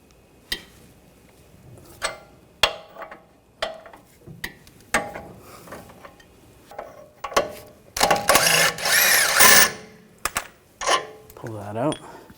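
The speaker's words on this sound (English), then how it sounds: "using a 21mm socket," A 21mm socket on a ratchet works the lower shock bolt loose on a 2007-2013 BMW X5 rear suspension, giving scattered metallic clicks and clanks with a louder rattling burst midway, close and moderately loud.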